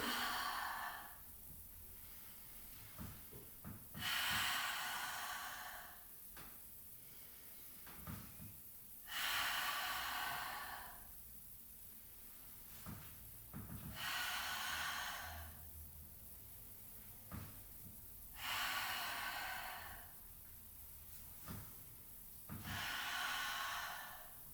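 Heavy breathing during a wall mat exercise: sharp, breathy exhales recur about every five seconds in a steady rhythm, fairly close, with quieter inhales and faint rustling between them and no talk.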